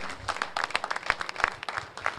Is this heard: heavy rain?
no